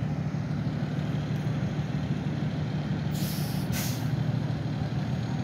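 Fire truck air brakes hiss in two short bursts over steady traffic and idling engine rumble at a motor vehicle accident scene where police are stopping traffic.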